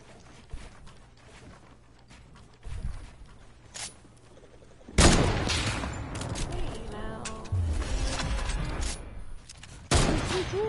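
Gunfire in a shooting video game, a sudden loud burst of rapid shots midway and another at the end, with faint scattered shots and game sounds earlier.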